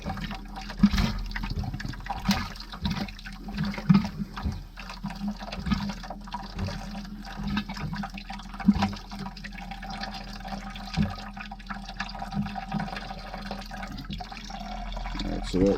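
Water and air forced through an RV's plumbing during winterizing, a gurgling, spluttering flow with irregular bursts and squirts from a faucet, fairly close and continuous, with someone talking at moments.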